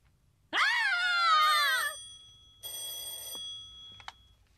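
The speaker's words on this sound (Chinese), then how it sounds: "钱先生，你电话。" An old-style telephone bell rings in a Hong Kong family-drama household, in two loud bursts of trilling rings separated by a short pause, heard alone, with a faint click at the end.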